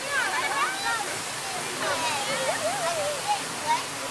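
Rushing, splashing water on the Kali River Rapids raft ride at Animal Kingdom, a steady loud wash under excited shouting and chatter from riders close by.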